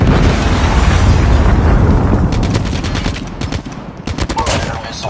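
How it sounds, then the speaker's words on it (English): A Predator missile strike in Call of Duty Mobile, with a loud roaring explosion followed by a long rumbling decay, then bursts of sharp gunfire crackling in the background. "Friendly predator missile inbound."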